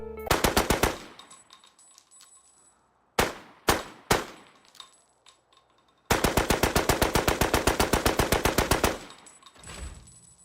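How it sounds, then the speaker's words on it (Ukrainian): Loud G3 rifle gunfire in the video game Arena Breakout: a quick burst, several single shots, then a long sustained automatic burst with echoing metallic ring, close and punchy, no talking. "Ось так стріляє G3."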